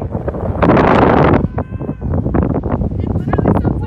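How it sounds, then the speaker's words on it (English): A strong gust of wind buffets the microphone outdoors while cattle are being wrangled, a loud roaring rumble for over a second that then drops into choppy bursts beneath people talking. "No, it was just a gust."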